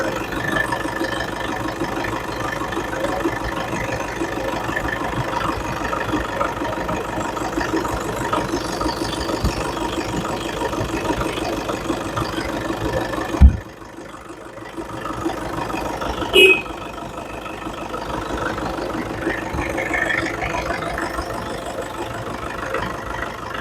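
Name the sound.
2015 Toyota Innova 2.5 G engine idling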